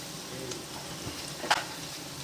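Bitter gourd chips fry in oil with a steady close sizzle and a few soft stirring scrapes, including one sharper clatter near the end, and no one speaks.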